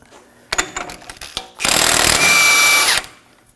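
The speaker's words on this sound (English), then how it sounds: "Using a 36mm socket, we're going to be removing the axle nut." A 36mm socket on a power tool loosens the front axle nut of a 2014-2020 Acura MDX during a wheel bearing job: close clattering and handling sounds, then one loud, sustained rattling burst lasting over a second before stopping.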